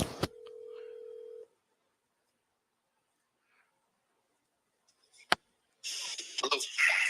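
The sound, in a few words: phone dialing a call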